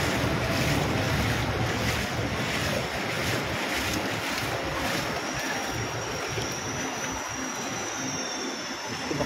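A vehicle pushes through deep flood water on Avenida Manila during a typhoon, giving a loud, continuous rushing wash of water and wind buffeting the microphone, with no talk.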